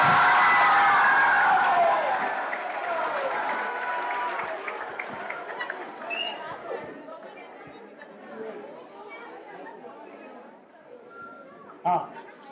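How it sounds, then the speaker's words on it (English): An audience at a cultural geography event claps for dancers, loud at first and then fading over several seconds into crowd chatter and murmuring voices, with a brief sharp clatter near the end. "Round of applause for dancers."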